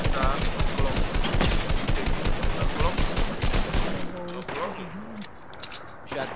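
Rapid video game gunfire rattles in dense automatic bursts for several seconds, loud and close, then thins out as a voice talks over the fighting.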